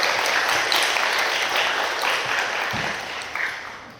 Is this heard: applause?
yes